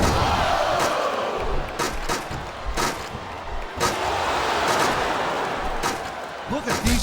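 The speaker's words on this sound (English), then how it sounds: "I can't remember the last time I seen a crowd so pumped up." A pumped-up arena crowd roars continuously in the WWE SmackDown vs. Raw 2007 video game during a Money in the Bank ladder match, with loud slams and impacts punctuating the cheering.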